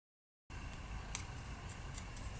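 Scissors snip around the edge of embossed paper on a card-making project. After a moment of silence, a steady close hiss of cutting carries faint repeated snips, without talk.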